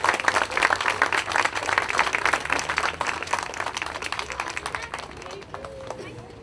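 An outdoor audience claps for honored veterans at a Field of Honor event, a burst of dense applause that gradually thins and fades, with murmuring voices mixed in.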